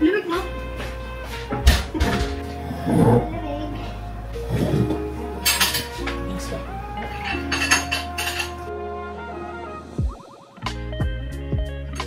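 Rice is put into glass containers in an apartment kitchen, with clinks and knocks of glass and kitchenware scattered throughout, heard close under frequent conversation.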